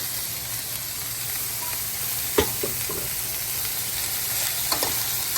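Cauliflower rice seasoned with salt, black pepper and garlic powder sizzles steadily in a pan, with a few sharp scrapes and knocks from stirring partway through and no talking.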